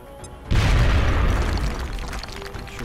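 A sudden loud grenade explosion in XCOM: Enemy Unknown booms after a short quiet lead-in, followed by a long, rumbling decay.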